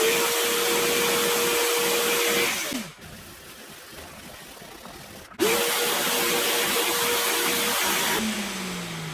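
A Bissell spot cleaner sucking fluid out of a carpet stain runs with a loud steady motor whine, stops briefly, then starts up again with a gurgling pitch shift near the end.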